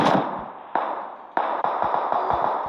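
Gunfire in the mobile battle-royale game PUBG Mobile: three sharp, loud shots spaced under a second apart, each leaving a fading tail, with fainter rapid pops trailing after the last.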